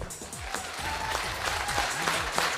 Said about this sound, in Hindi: एक बार जिंदा जैसे लोगों की ताली बजा दो